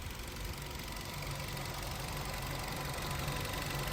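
A BS-6 car engine idles steadily after throttle body cleaning, a continuous even hum with a faint rhythmic knock, heard close up with no talking.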